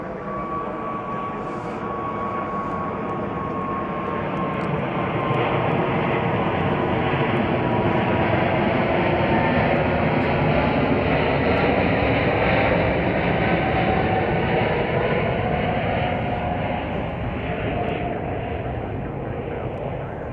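An Emirates Boeing 777 takes off at Chicago O'Hare, its jet engines building into a loud, continuous roar with a shifting whine that stays strong throughout at fairly close range.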